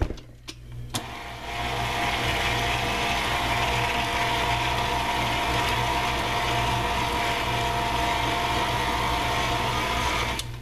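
An electric mixer beats carrot cake batter, a steady close whirring drone with a mechanical rattle that runs nearly unchanged after a few brief clunks at the start.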